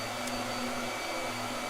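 A blow dryer runs with a steady, unbroken whooshing hum, close and constant for the full short stretch.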